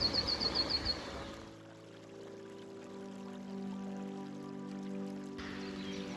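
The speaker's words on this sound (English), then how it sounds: "just listen to the sound, the music of the water." Steady rushing water flows continuously in a cottage garden in Herefordshire, a soft broadband wash with a low hum, opening with a brief run of high chirps at the start.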